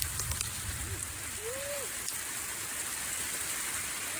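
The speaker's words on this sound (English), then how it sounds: "Embrace the hail." Hail falling outdoors, a steady dense patter of stones striking around the listener, continuous and fairly loud throughout.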